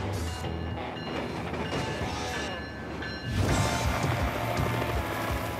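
A loaded grain freight train runs through the Rocky Mountains with a steady, heavy rumble of rolling cars and wheels. The noise grows louder and rougher partway through.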